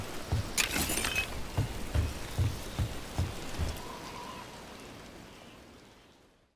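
Rain pours in a video game, Dragon Age: The Veilguard, as a steady hiss with heavy drops and splashes striking at a loose, repeated rhythm, then fading away toward the end.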